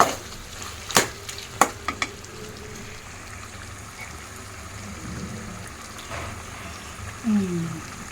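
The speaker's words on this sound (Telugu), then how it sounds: "ఇప్పుడు మనం గోంగూర అంతా ఇందులో వేసుకుందాము" Gongura leaves are stirred into a chicken curry frying in a pan, with a few sharp utensil clacks early on over a soft continuous sizzle.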